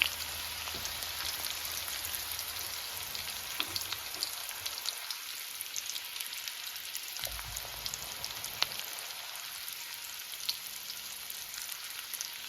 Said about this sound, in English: We're going to fry up the onions.